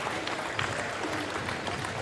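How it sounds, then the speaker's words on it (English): A basketball crowd in Elma gives a senior a standing ovation at a 1A state regional game, with dense, continuous clapping and cheering that stays steady throughout. "the senior gets a standing ovation from this Elma crowd"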